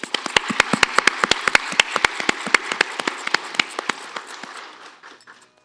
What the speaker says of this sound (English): Let's hear a cheer for her.